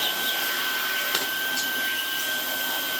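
A Dyson DC49 digital cylinder vacuum runs close and loud with a steady whine and airy rush, plus a thin high tone throughout and a couple of brief bumps, no speech.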